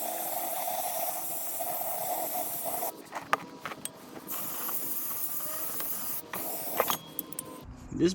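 Brake cleaner sprays in hissing bursts onto a planetary gear case in a workshop, each spray a short sharp hiss separated by quiet gaps and faint handling clatter, heard close.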